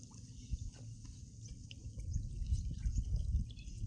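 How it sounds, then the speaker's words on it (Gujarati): Irrigation water runs through a furrow in a coriander field, a low, gently burbling trickle heard close by that grows slightly louder, with faint dripping and no voices. "આ વચ્ચે પાણી હાલ્યું જાય છે"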